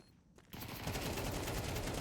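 Rifle fire from an ESEA Advanced esports shooter match bursts in after a quiet moment, then continues as a dense, loud stream of rapid shots.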